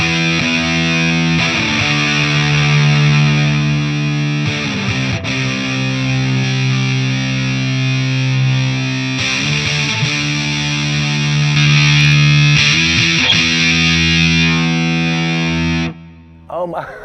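An electric guitar played through a Keeley Super Rodent distortion pedal rings out in thick, sustained distorted chords, with a few strummed changes and a brief pause before the final chord cuts off.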